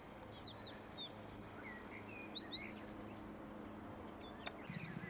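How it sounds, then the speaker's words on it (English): Reed warblers sing in a reedbed near a railway line on the walk from Arundel toward Goring-by-Sea, their rapid chattering phrases fairly close and continuous against faint background hum, with no talking. "I think they're reed warblers"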